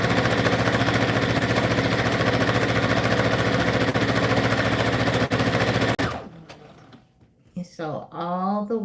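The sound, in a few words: sewing machine stitching satin ribbon anklet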